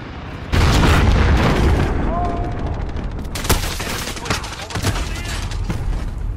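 Rapid gunfire and booming blasts from a Modern Warfare multiplayer match, loud and continuous with sharp individual shots breaking through.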